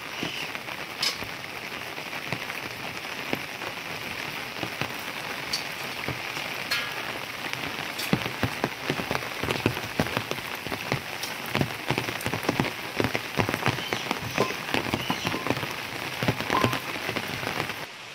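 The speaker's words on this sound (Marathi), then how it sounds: "पाऊस पण चालू आहे भावांनो" Rain falls steadily on a village morning, a soft continuous patter on surfaces with scattered louder drips and drops, fairly quiet and unbroken by talk.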